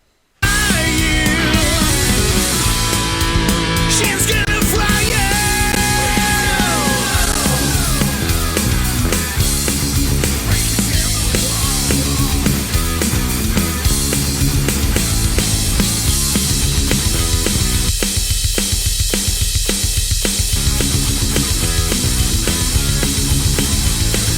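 A re-recorded band track reaches its ending, with a big arpeggiated guitar section over driving double kick drums and crashing cymbals, loud and dense throughout with no talking.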